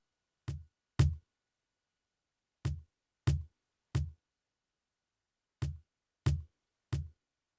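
An Ortega Horse Kick Pro stomp box pedal on its first setting gives dull, thumping kick-drum hits in small groups of two and three, each short and bass-heavy with clean silence between them.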